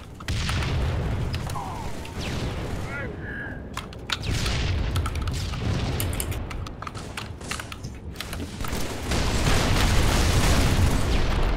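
Rocket launcher blasts in Halo 3 boom out amid a dense, rumbling battle mix with rattling gunfire and keyboard clatter, building into a heavier roar toward the end.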